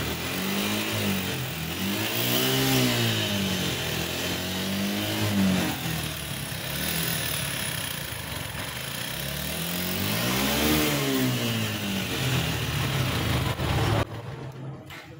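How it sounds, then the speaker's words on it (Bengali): A Suzuki Gixxer FI motorcycle engine in a repair shop revs up and down repeatedly, its pitch rising and falling in loud sweeping waves before cutting off abruptly near the end. "ভিডিওর ফার্স্টে দেখতে পারছেন বাইকের ইঞ্জিনের সাউন্ড"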